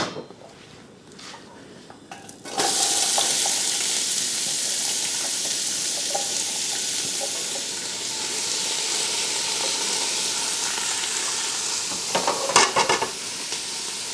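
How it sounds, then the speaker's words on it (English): About three cups of chopped onion hit a pan with roughly a tablespoon of oil for minestrone soup, starting a sudden loud hiss after a quieter moment, then a steady close sizzle with occasional stirring clatter. "I've just put about a tablespoon of oil in the pan, and I'm now going to drop in the onions"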